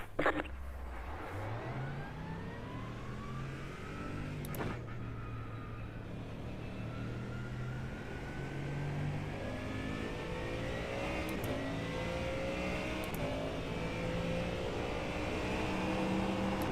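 A GT3 race car engine in the iRacing simulator revs through repeated rising gear pulls, a loud, steady, close engine whine climbing and shifting for over fifteen seconds with no talk over it.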